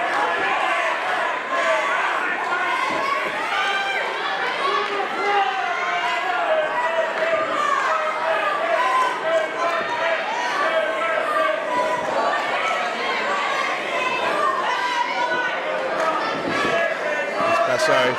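Wrestling event crowd at RCW Key To The City 2019 murmuring and stirring in disbelief after a near-fall two count, a steady dense mass of chatter and reaction filling the arena throughout.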